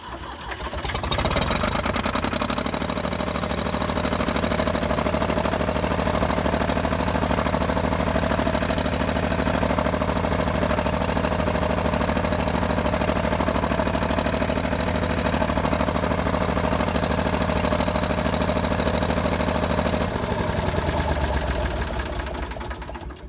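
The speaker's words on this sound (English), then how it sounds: "After we removed the stump, we noticed some rattle whenever we would move the loader up." A tractor engine idles steadily and loudly for about twenty seconds with a continuous mechanical rattle, occurring as the front loader is raised after stump removal, then winds down near the end; no voices.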